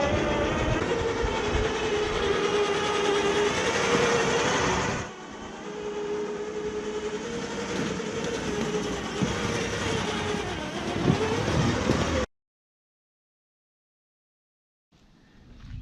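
A 36-volt electric lawn tractor driving forward, giving a loud, steady motor whine and drivetrain rumble. The whine shifts lower partway through and then cuts off abruptly into silence, with faint noise returning at the very end.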